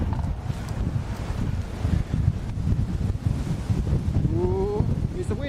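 Strong wind buffets a microphone outdoors during metal detecting, a constant loud rumbling roar with a brief beep near the end.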